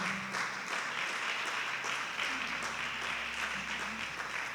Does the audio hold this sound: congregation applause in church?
yes